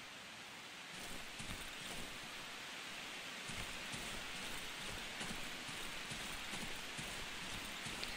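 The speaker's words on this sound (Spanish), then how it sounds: "El ruido de la lluvia, cómo está hecho, es increíble." Rain falls steadily in the horror survival game Darkwood, a dense continuous hiss of drops with faint patters, loud and unbroken and with no one speaking.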